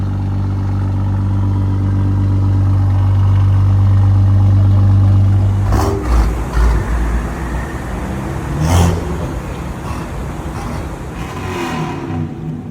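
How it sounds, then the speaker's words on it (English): A car with a catless downpipe idles with a deep, droning exhaust note, then revs hard into a loud, crackling roar that pulses and fades as it pulls away at a park-and-chill car meet. "That's just catless downpipe."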